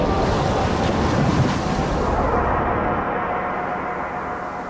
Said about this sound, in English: Look at the waves, Mina.